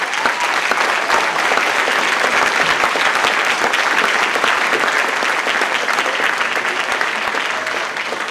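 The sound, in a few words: audience applause for candidates at mayoral forum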